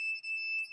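Metal detector alarm sounding as metal is held over it: a steady, loud, high electronic tone held through the whole moment with a brief dip near the start, alone with no talk.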